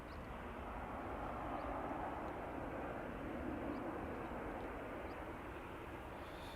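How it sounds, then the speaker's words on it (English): Broad, steady roar of jet airliner engines at Amsterdam Schiphol airport, a sustained rumbling hiss held at a constant level with a faint high whine on top. "on my screen I can see the jet wash blasting out of that engine."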